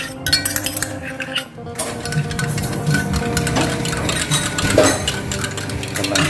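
A spoon stirs green tea with sugar and milk in a metal or glass container, making steady clinks and scraping close by, with no voices.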